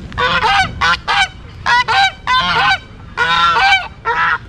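A goose at a Japanese garden in Houston gives a run of loud, close honks in short bursts, roughly eight or nine calls in irregular pairs and clusters.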